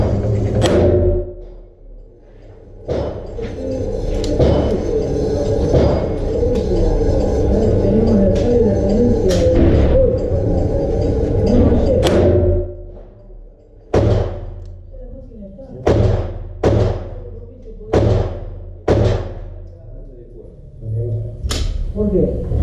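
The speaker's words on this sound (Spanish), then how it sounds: "Vamos a hacer 3 disparos en simple acción y 3 disparos en doble acción." Taurus Tracker .357 revolver with a six-inch barrel fired in single action at a range: loud sharp reports, several spaced shots over continuous rumbling background noise, with talk at points.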